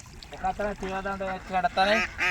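Ducks near a village pond give loud, nasal quacks and honks in quick close bursts, several calls overlapping.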